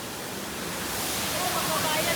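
Balagbag Falls in Real, Quezon, running strong, gives a steady broadband rush of falling water that fills the whole stretch evenly and grows slightly louder toward the end.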